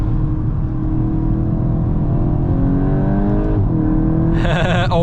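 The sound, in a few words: VW Golf GTI Clubsport engine accelerating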